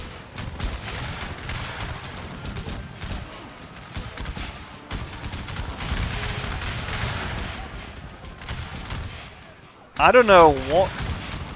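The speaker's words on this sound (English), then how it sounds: "it seemed as though the gunfire was a bit lackluster" Battle of the Bulge video game combat with rolling rifle fire and artillery crackling steadily in the background, somewhat subdued, followed at the end by someone speaking briefly over it.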